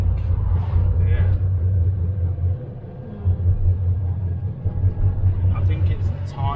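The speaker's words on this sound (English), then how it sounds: "So I think that's definitely the tyre. That noise there." Low, steady rumble from a van with a faulty, uneven front right tyre, heard from inside while driving, with a droning hum that dips briefly midway; a voice speaks over it.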